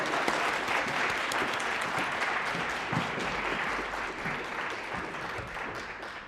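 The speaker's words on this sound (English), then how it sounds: "Please join me in welcoming Professor Murphy to the stage." A large audience at an academic lecture claps steadily in a sustained, dense burst of applause welcoming a professor to the stage, gradually tapering slightly toward the end.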